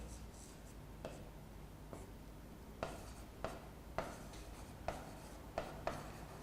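Chalk or marker strokes on a board during a physics lecture, with about a dozen sharp scratching taps and short scrapes spaced irregularly and growing more frequent toward the end, quiet and close, with no talk over them.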